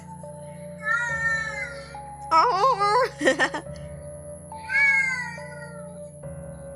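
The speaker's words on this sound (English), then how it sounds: "He's been howling at this cat at the door." A domestic cat howls territorially at another cat by the door, giving several drawn-out wailing yowls between quiet gaps, with a steady hum under them and a brief voice.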